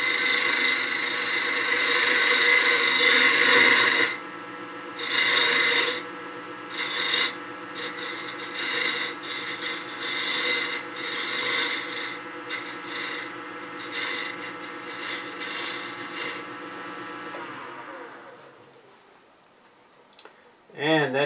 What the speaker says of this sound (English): I'm going to switch to this Hunter since I've got it out, and let's see how that does.